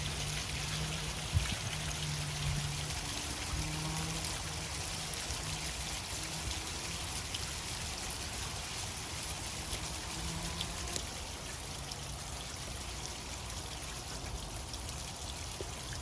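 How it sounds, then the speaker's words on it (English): Rainwater trickles and pours down a rain chain with a steady, soft, continuous splashing and dribbling, faint and even the whole way through. "consider getting yourself one of these beautiful rain chains"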